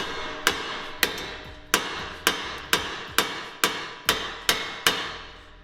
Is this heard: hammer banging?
yes